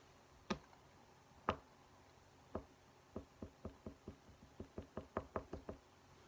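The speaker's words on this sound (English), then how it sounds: "It's like tapping." Sharp knocks sound against a window at night: two isolated taps with long gaps, then a quickening run of about a dozen evenly spaced raps, close and fairly quiet in an otherwise silent room.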